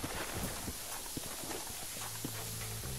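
Horse hooves clip-clop in the Red Dead Redemption video game, a steady walking rhythm of soft knocks under broadband game ambience, with a low hum entering toward the end.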